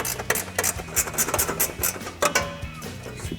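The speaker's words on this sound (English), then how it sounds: "I'm gonna take my ratcheting wrench and loosen that nut up in here." A ratcheting wrench loosening an exhaust nut on a Silverado 1500, wedged in against the frame, heard as close, rapid uneven ratchet clicks in bursts of varying pace.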